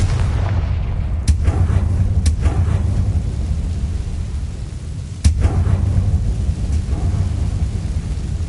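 Confringo fire spell blasts in the video game Hogwarts Legacy, several sharp booming impacts over a steady low rumble of game ambience, with no talk.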